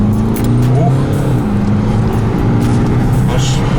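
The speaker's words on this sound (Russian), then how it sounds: "я включаю спорт, включаю коробку, вот этот спорт плюс, и нажимаем в пол" A BMW F30 320d xDrive diesel saloon accelerating hard in sport plus mode, a loud, steady engine drone rising in pitch as it pulls, heard from inside the car with constant road rumble.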